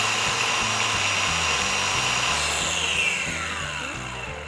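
An Osuka cordless circular saw spins at 6,500 RPM with a continuous high whine close by, then the pitch starts falling and the noise fades gradually as the blade winds down after the switch is released.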